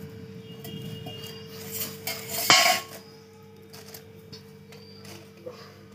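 Plates and cutlery clink while Hyderabadi biryani is served at home, with scattered light knocks and a sharper clatter around the middle, all close by and heard alone.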